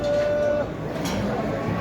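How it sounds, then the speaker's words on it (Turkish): A cow moos once at a livestock market in Şarkışla, a fairly close, drawn-out call over busy crowd noise and nearby talk. "Burada inek var."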